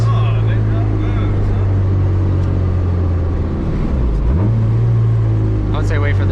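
A car passes on a road, its engine drone sweeping down in pitch about two-thirds of the way through, loud and close amid steady vehicle noise, with people talking nearby.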